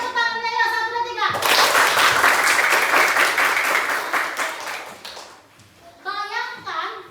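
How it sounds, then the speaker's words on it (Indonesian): Children in a sixth-grade Christian religion class clap together in a loud, ragged burst lasting about four seconds, with kids' voices chattering before and after it. "Semangat dulu, tepuk tangannya ya."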